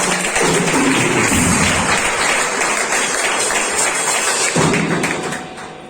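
A church congregation claps loudly and steadily for several seconds during a sermon, a dense wash of applause that tapers off near the end.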